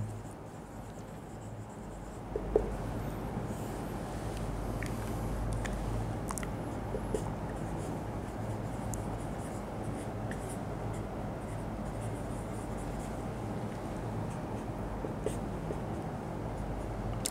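Pen scratching steadily on paper or a board while notes are taken during a physics lecture on refraction of light, a continuous soft writing texture over a low background hum with a few small taps.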